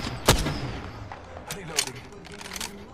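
Gunfire in an online shooter video game strikes the player, with several sharp cracks and impacts scattered across a few seconds, the loudest one early, mixed with game effects and voices.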